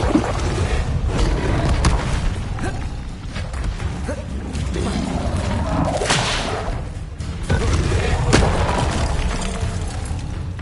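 An Incendio fire spell cast in a Harry Potter game: whooshing, whip-like fiery bursts and a booming swell ride over a loud, continuous action soundscape, with a few distinct flares.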